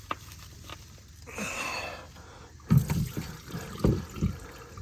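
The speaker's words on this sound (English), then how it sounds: "So it's gonna have to get dumped in the catch pan down there." Diesel fuel from a Duramax fuel filter bowl pours into a catch pan below, a close trickling and splashing stream that starts and stops in short bursts with a few clunks in between.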